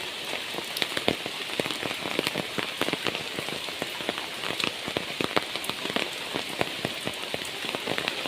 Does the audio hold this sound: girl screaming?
no